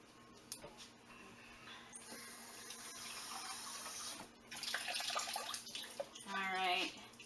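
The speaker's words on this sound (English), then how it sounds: "we're going to add another ¾ cup of warm water to this" Warm water is poured into a whole wheat bread dough mixture, a soft splashing trickle that swells and fades in quiet close-up, with brief gurgling near the end and no talk.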